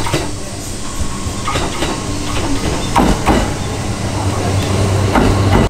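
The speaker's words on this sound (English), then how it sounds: "we're just at the train station right now waiting for the next train" A steady rumble fills a quiet, mostly empty train station platform in Japan while waiting for a train. Hiss and faint clanks sit under the rumble, and the sound stays loud and continuous.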